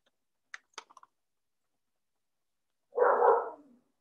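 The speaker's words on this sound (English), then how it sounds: "What you heard was my puppy." A seven-month-old puppy lets out one brief, muffled bark or yelp, faint and somewhat distant, following a few small clicks in an otherwise quiet room.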